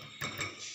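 A spoon tapping the crust of a freshly fried crispy samosa, two or three quick, light, dry clicks close by with no talking.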